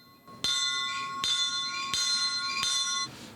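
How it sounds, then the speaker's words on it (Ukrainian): A bell rings out with four evenly spaced, clear strikes before a Kyiv–Budapest train departs, each tone ringing on between hits, moderately loud with faint background noise. "Вони символічно вдарили у дзвін перед початком руху поїзда."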